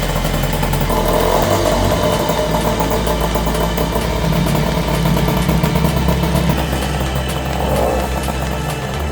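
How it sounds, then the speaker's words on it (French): MBK Motobecane 51 moped with a fresh MVT Premium ignition running steadily, a loud buzzing two-stroke engine idling and droning on without pause, close up. "démarrer votre moteur"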